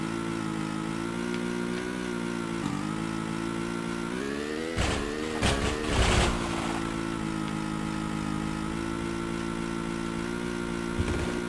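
A scooter engine in Tomb Raider II Remastered drones and rises in pitch as it accelerates, a steady buzzing motor with a brief burst of clattering bangs midway, close and sustained.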